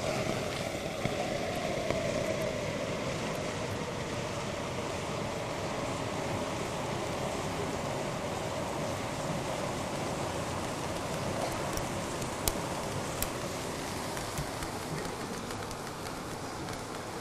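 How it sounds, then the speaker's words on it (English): Liquid nitrogen at minus 196 degrees centigrade poured into nearly boiling water erupts in a loud, steady roaring hiss of violent boiling that holds at an even level for well over fifteen seconds, with faint crackles on top. "take some liquid nitrogen at minus 196 degrees centigrade and pour it into some pretty much boiling water"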